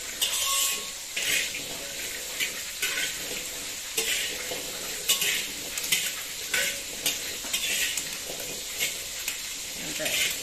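Vegetables stir-fried without oil in a pan alongside already-fried tofu and milkfish, giving a steady soft sizzle broken by repeated scraping and clinking stirring strokes, close and moderately loud.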